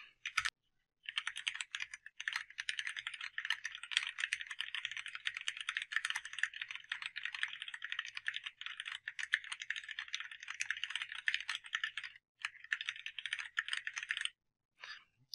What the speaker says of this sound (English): Just typing normally on this keyboard already, the nice mechanical keyboard is giving me a speed improvement.